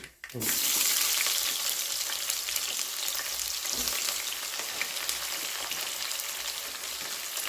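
Chopped onions fry in a hot pan for tomato rice, giving a loud, continuous, hissing sizzle that starts abruptly and holds steady. A few faint stirring scrapes sit close by, with no talk.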